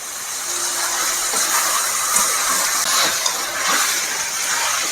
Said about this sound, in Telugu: ఈ మసాలా అన్ని ముక్కలు పట్టేలా బాగా కలుపుకోవాలి.